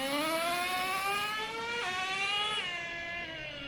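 Traxxas T-Maxx 2.5 nitro RC truck engine, a high-pitched buzzing whine that holds steady, dips briefly twice as the revs waver, and stays fairly near and alone throughout.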